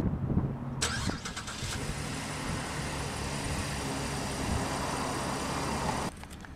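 A 2012 Cadillac CTS Coupe engine cranks briefly, catches and settles into a steady idle, close by. The idle hums on evenly for several seconds before cutting off near the end.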